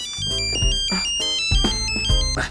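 A phone plays a bright, melodic ringtone, a repeating pattern of chiming notes over a steady beat, loud and continuous with no voices.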